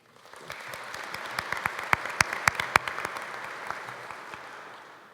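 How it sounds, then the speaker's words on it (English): Graduates and guests at a 2017 college commencement ceremony applaud, dense clapping that swells to a peak with several sharp individual claps standing out, then fades slightly. "thank you to all of you for making her Faculty of the Year"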